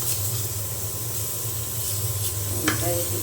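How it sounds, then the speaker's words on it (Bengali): Eggplant slices fry in a pan, with a steady low sizzle and hiss running throughout, a brief clatter near the end and faint talk in the background. "এখন এক পাশ খুব ভালো করে আমি ভেজে নেব।"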